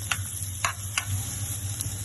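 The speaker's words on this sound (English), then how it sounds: "Sizzling away there, lovely." Bacon, Brussels sprouts and chestnuts sizzle in a frying pan, a soft steady crackle close by with a few sharp spits and ticks, no voices.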